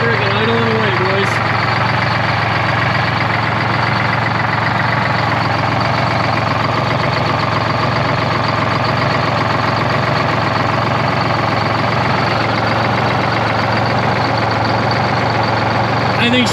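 Detroit Diesel 12V71 engine idling in a 1973 Peterbilt 352 cabover truck, a loud, steady, rough rumbling idle that runs unbroken throughout, close by, with no voices over it.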